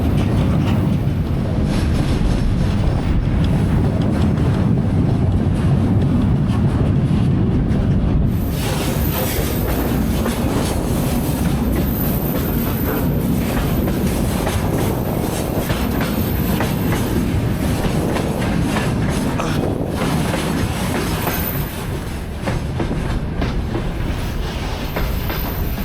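Steady, loud rumble of a moving train in Kazakhstan with continuous wheel clatter and rail noise, a brief shift in tone partway through, no voices.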